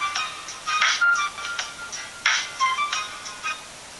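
A cheap budget mobile phone powers on with its startup chime, a short run of bright electronic tones that rise and fall in several bursts, fairly loud and alone with no talking.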